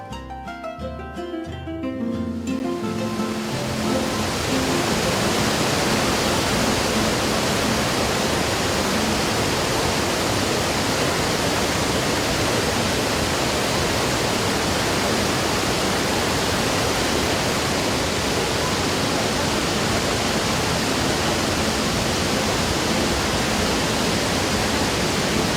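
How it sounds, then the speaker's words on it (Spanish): The Garganta del Diablo waterfall roars in a massive, dense, unbroken wall of crashing water that swells in after a brief quieter start and stays loud and steady throughout. "escuchaban el ruido que produce el agua al caer"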